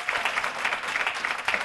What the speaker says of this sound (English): I want you to give yourselves a round of applause because tonight is your night